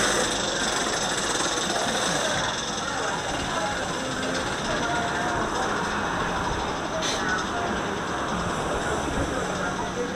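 Anaconda roller coaster train at Kings Dominion rumbles and rattles continuously on its track, a loud, gritty roar with clattering wheels and wind noise filling the entire ride segment.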